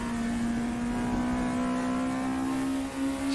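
VW Scirocco race car in a racing video game at Brands Hatch, its engine holding a steady, loud, sustained drone at near-constant pitch under full throttle, with a brief dip near the end.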